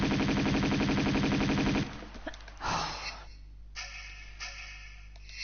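Rapid pistol fire from Lara's twin pistols in Tomb Raider 2 Remastered, a loud, evenly spaced burst of shots that cuts off abruptly, followed by a few scattered faint clicks and thuds.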